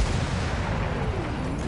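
Cannon fire in Battlefield 1 booms loudly and continuously, a dense rumbling barrage of heavy blasts with battlefield noise throughout and no clear speech.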